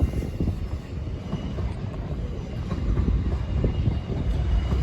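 A train runs at Richmond or Clapham Junction station in London, a loud steady rumble of wheels and carriages close by that swells slightly toward the end, with no voices.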